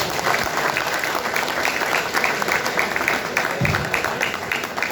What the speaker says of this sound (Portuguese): Nós vamos bater uma salva de palmas aos nossos aniversariantes.